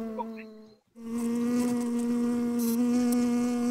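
A bee in a video game drones with a steady, close, tonal buzz that starts abruptly after a short silence and holds evenly, with faint game sounds behind it.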